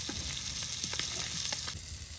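Pieces of hilsa fish fry in hot oil with a steady, crackling sizzle and occasional sharper pops, close and continuous.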